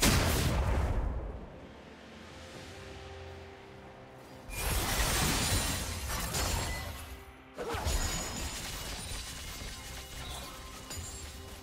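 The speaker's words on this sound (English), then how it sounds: "Blue team's turret has been destroyed." A turret being destroyed in League of Legends, with loud crashing, explosive impacts and whooshing effects. Two big bursts hit at about four and a half and seven and a half seconds, each trailing into rumbling debris.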